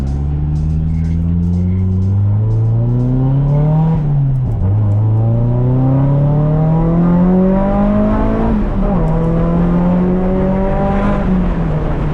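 A turbocharged car fitted with SR20 and 1JZ engines revs loudly while being driven. The engine note climbs through the gears with two brief drops between them, close and steady, with a faint whistle-like whir over the drone.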